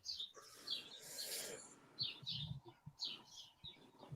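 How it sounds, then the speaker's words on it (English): Small birds chirp outdoors in quick, high bursts that repeat in loose clusters, faint and fairly distant, with soft rustling and low thumps in between. "I love the sound of birds."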